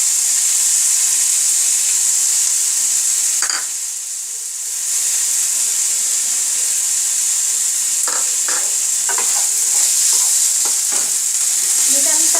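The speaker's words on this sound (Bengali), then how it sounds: "যেটা আমি তো আলুটার সাথে একটু কষিয়ে নেব চালটাকে" Gobindobhog rice sautéed with potatoes in a pan gives a steady broadband sizzle, with a brief lull partway and then scattered scraping stir strokes from a spatula near the end; no talking.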